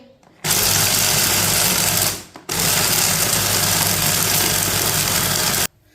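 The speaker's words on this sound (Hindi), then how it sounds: "आधा आधा करके ना हम इसे पीस लेंगे। अच्छी तरह इसे ग्राइंड कर लेंगे।" A mixer grinder grinds fox nuts and roasted chickpeas in two loud, close bursts of steady whirring, with a short pause between them and quiet before and after.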